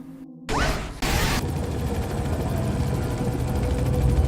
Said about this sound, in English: The chopper will do a circle sweep of the shadows